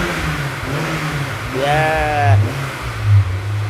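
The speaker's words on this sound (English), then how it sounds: "Oh, that exhaust does sound good though, doesn't it?" Honda S2000 fitted with a Milltek cat-back exhaust, revving in short bursts with a deep burble that rises and falls twice, close by, with a brief spoken word over it.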